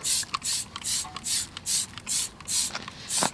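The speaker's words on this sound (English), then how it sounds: "we're gonna spray it down and let it sit for 30 seconds" Wheel cleaner sprayed onto BMW E46 rims in a run of about eight short, even hissing bursts from a trigger sprayer, close and clear with brief gaps between pumps.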